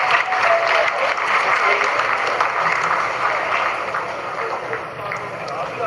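Sustained applause from the crowd at ISRO mission control during the Chandrayaan-3 lunar landing, a steady wash of clapping that fades slightly toward the end, with some talk mixed in.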